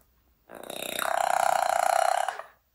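A parrot imitates a burp, one drawn-out guttural belch-like croak lasting nearly two seconds, close and fairly loud, alone against silence.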